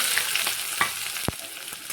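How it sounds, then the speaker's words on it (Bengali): Sliced onions frying in hot oil make a steady, close sizzling hiss, broken by a few soft stirring scrapes and one sharper knock against the pan. "পেঁয়াজগুলো ভালো করে ভেজে নেব।"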